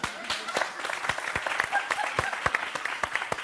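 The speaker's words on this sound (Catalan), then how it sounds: "Un aplaudiment." Applause from a television studio audience, steady and dense with sharper individual claps standing out, filling the whole stretch at moderate volume with a little voice mixed underneath.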